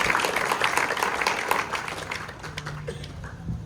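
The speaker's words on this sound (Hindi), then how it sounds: "जोरदार तालियों से भाई का स्वागत करते हैं" A crowd welcomes a guest at a Rajasthan police recruitment class event with dense applause that starts strong and tapers off over a few seconds, leaving some scattered claps and a low hum.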